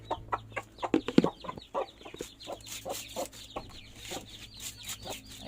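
Japanese Shamo hen and her chicks clucking and peeping close by, a steady run of short, soft clucks with higher chick cheeps woven between, no talking.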